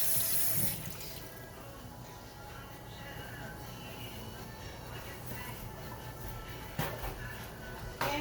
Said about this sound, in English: So I'm just rinsing my hands and making sure this time that I'm drying them the right way.